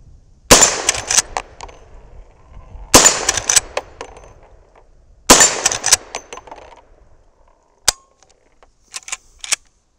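Three loud .357 Magnum shots from a Henry Big Boy lever-action rifle firing powder-coated 158-grain loads at an old steel propane tank, each crack followed by a ringing metallic clang, with a faint click and a few lighter knocks near the end.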